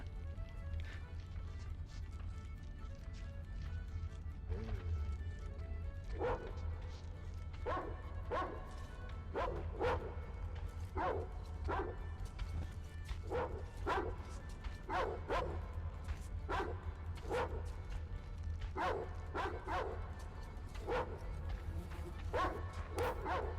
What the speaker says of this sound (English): I don't like dogs in video games.